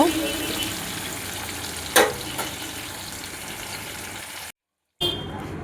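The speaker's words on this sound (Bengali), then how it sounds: "সরষের তেলটা খুব কম পরিমাণে দিতে হবে নাহলে খুব তেল তেলে হয়ে যাবে তেলটা আমি একটু সামান্য ভেজে নেব" Fish fat fries in a small amount of mustard oil, giving a steady close sizzle with a sharp scraping clatter near the start, a brief cut to silence, then frying resumes.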